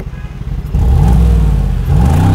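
A 2019 Mercedes G63 AMG with a 4.0-litre biturbo engine and four exhaust outlets idles, then revs sharply into a loud, rising roar, dips briefly and revs again close by.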